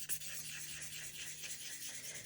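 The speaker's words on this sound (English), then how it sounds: "I'm going to very lightly sand on the inside of this lip here" A tumbler lid is lightly sanded by hand on the inside of its lip, giving a faint, steady scratchy rubbing that runs continuously and close up with no talking.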